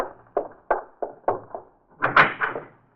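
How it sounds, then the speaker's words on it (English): Door being answered in an old radio mystery drama: a few hollow wooden thumps and knocks, then a louder clatter as the door is opened, close and clear with no talk. "Now answer the door."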